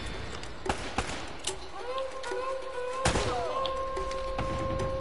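Gunfire during a shootout in the video game Uncharted: Drake's Fortune: several sharp, loud shots spaced irregularly, with a steady tonal hum and other game sounds running underneath.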